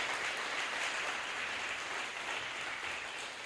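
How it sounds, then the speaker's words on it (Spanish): Church congregation applauding, a steady, even wash of many hands clapping, fairly faint and unbroken for the whole stretch with no voices over it. "Dele un aplauso al Señor, al ejemplo más grande de amor."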